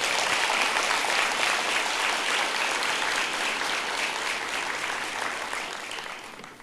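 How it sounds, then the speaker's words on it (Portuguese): A church congregation applauds, a loud, sustained wash of many hands clapping that tapers off slightly toward the end. "Quem recebe, aplauda o Senhor Jesus"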